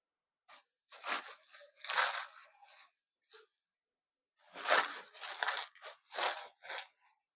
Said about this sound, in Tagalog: pinuputol natin ito kahit malutong yan.